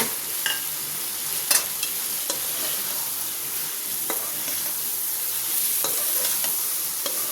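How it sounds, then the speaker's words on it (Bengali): Shrimp sautéing in a hot pan with spices for a taro root (kochu mukhi) curry, a steady close sizzle with occasional sharp clicks of a spoon stirring and scraping, no talking. "এখন আমি কিছুক্ষণ চিংড়ি মাছটা দিয়ে সটে করে নেব"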